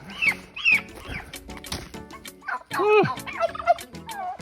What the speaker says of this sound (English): Turkeys are back together. They can calm down now.